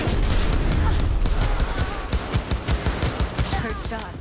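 A dense exchange of gunshots in Cyberpunk 2077 during a firefight, loud overlapping bursts forming a continuous barrage that thins into spaced shots, with voices faintly mixed in.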